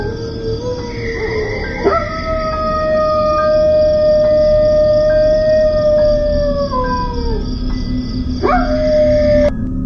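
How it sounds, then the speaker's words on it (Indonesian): Several dogs howl back and forth in front of a house in long, wavering tones, one voice rising after another and overlapping, over steady background noise. "ada lolongan anjing saling saut menyaut di depan rumah"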